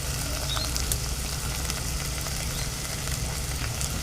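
Birde beans with onion and tomato sizzle steadily in a pan, a soft, even frying hiss with faint crackles and no talk.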